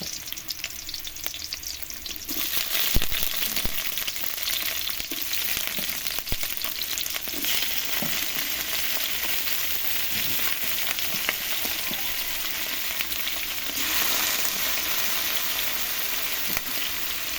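Shrimp stirred into vegetables frying in a pan for a coconut-milk vegetable dish, a long steady sizzle with scattered scraping clicks of the spatula and a louder burst of frying partway through.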